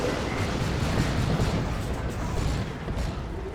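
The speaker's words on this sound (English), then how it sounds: "There we saw the Melter Bomb again, or Crack Grenade" Explosion from a Melter Bomb or Crack Grenade in the Dawn of War 2 strategy game, a dense, rumbling blast with sustained low crackle and debris noise filling the short stretch at steady loudness.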